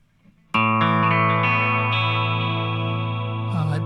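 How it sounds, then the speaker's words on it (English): Electric guitar through a Tom'sLine APE3S delay pedal switched to its modulation setting, a single loud strummed chord ringing for several seconds with a swirling, flanging wobble, alone without speech. "a bit of a flange sound"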